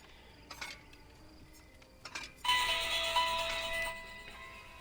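A phone notification chime goes off at close range, a bright tonal burst of about a second and a half that rises suddenly out of quiet game sounds and then fades. No one talks over it.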